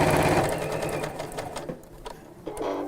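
Sewing machine running steadily as it stitches around the four sides of a fabric piece, a loud continuous motor whir that briefly slows and pauses near the end before resuming.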